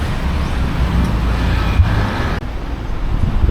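Steady street traffic in Phuket Town, with a continuous low rumble of cars, buses and motorbikes passing close by and no voices heard.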